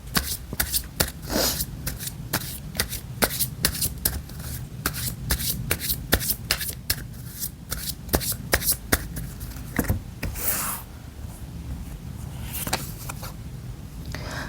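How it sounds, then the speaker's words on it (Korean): Tarot cards are shuffled by hand before an advice card is drawn, giving a continuous stream of close, crisp riffling and slapping sounds with no talk. "그럼 마지막으로 조언 카드 하나 더 뽑아볼게요."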